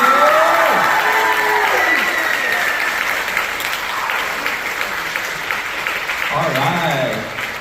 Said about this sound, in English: Can we do one more round of applause for them?